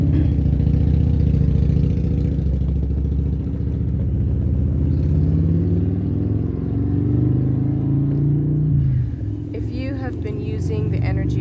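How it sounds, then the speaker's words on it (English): A Harley-Davidson motorcycle engine rumbles heavily in a town, a loud, deep, continuous drone that rises then drops away, with a person speaking over the end. "There's a few Harleys in town."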